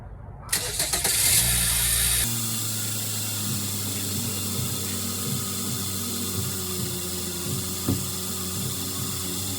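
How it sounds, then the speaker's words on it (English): Chevrolet Camaro SS engine cranks with a loud ratcheting starter whir, then catches and settles into a steady, close idle. "So now I'm going to start the car, put it on full high AC"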